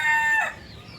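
A chicken on a rooftop farm lets out a single short, loud call up close, ending abruptly within a second.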